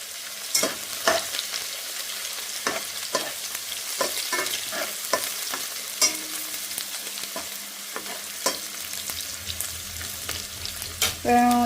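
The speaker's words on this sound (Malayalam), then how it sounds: "ഈ ഉള്ളിയും പച്ചമുളക് നന്നായിട്ടൊന്ന് വാടി വരുമ്പോൾ നമുക്ക് തക്കാളി ചേർത്ത് കൊടുക്കാം" Sliced onions and green chilies sauté in coconut oil for a clam curry, with a steady soft sizzle broken by repeated scraping, clattering stirs of a spoon in the pan, close up and with no talking.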